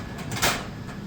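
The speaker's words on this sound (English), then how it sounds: "You take the tray, you hold the wire somewhere here, and then you put the tray. It's like a drawer." A snack vending machine's metal tray slides back into its slot like a drawer, giving a short broadband scrape that peaks briefly near the middle over a steady low background hum.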